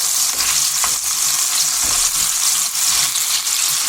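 Rabbit pieces browning in a hot pan, a loud, dense, continuous sizzle close up with faint stirring movements and no voices.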